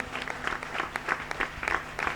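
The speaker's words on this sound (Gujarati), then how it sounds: "એના માટે તાળી પાડીને પ્રભુને ધન્યવાદ આપીએ." Brief, moderately quiet clapping from a church congregation at a Gujarati Christian service, with distinct rhythmic, roughly unison claps repeating steadily.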